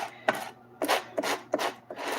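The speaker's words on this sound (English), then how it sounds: "I'm just going to use that stencil pal to scrape off any of the excess Glitz glitter gel" A stencil pal scrapes excess Glitz glitter gel off a surface in four or five short, firm rasping strokes, close and clear with brief pauses between them.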